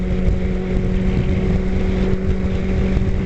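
A Suzuki Katana motorcycle riding along the road, its engine a loud, steady drone mixed with heavy wind rush, with no one talking.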